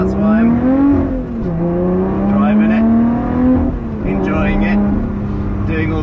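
A Lotus Evora on a road drive gives a steady engine drone with a shifting pitch under someone talking throughout.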